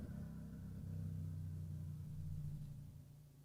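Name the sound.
loud vehicle with no exhaust driving by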